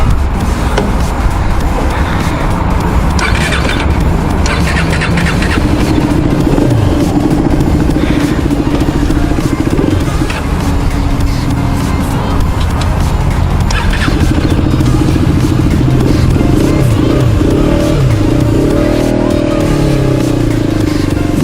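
A KTM RC250 motorcycle runs on a test ride, a continuous close engine drone with shifting pitch and occasional rising revs amid road noise, with no one speaking.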